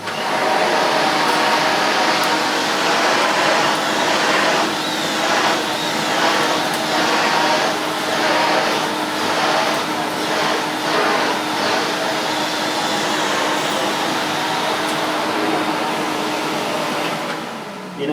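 A vintage 1974 Electrolux Automatic 330 vacuum cleaner roars loudly and continuously with its nozzle tilted back for brushing, the airflow rising and falling slightly as it is pushed back and forth.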